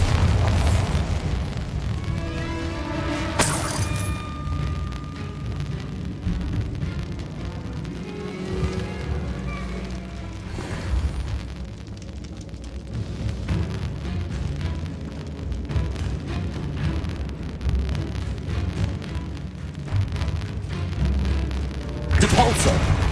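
Bombarda blasting spell explosions in the video game Hogwarts Legacy, loud booming bursts over a dense, continuous game soundscape with sharp impacts near the start and end.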